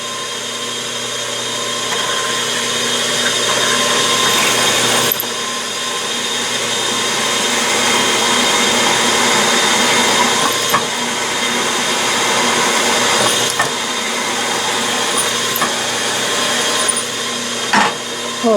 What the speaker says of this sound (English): I'm drilling it 3/16 into the bottom piece